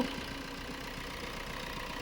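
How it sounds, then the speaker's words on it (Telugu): A restored Maruti Brezza engine idling quietly, giving a faint, steady, even hum with a soft regular pulse and no other sounds. "వెహికల్ ఇంజన్ చూడండి ఎంత సైలెంట్ అయిపోయిందో"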